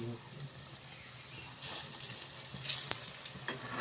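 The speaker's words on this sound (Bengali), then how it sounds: "এইভাবে আমরা উল্টে পাল্টে ভেজে নেব" Egg chops frying in oil in a pan and being flipped over, a soft sizzle that swells louder midway with brief scraping clinks as pieces are turned.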